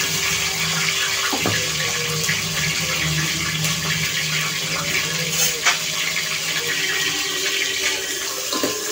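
Tomatoes and curry leaves sizzle in three spoons of hot oil for a chicken curry, giving a steady, fairly loud crackling hiss throughout with no talk over it.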